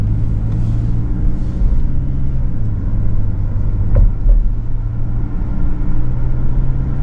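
A Mazda 3 Fastback engine pulls under normal acceleration, giving a low, smooth, steady rumble heard from inside the car with no sharp revving.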